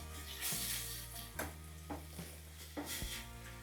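Tomatoes stirred in a pan with chili and coriander powder while making egg burji, a soft sizzle with several scraping strokes of a spoon against the pan, close and steady.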